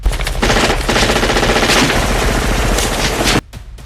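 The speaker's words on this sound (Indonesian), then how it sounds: "Mendengar suara tembakan, Pak Dedak dan teman-teman yang lain langsung menghampiri dan ikut menembak." Sustained, loud automatic gunfire rattles continuously for several seconds, a dense rapid burst that cuts off abruptly, leaving a faint tail.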